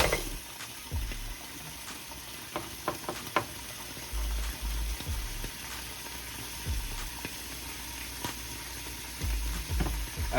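Mussels fry in hot oil under a lid in a covered pan, giving a steady sizzle with scattered pops and spits, plus a few low thumps and knocks from the pan, and no talking.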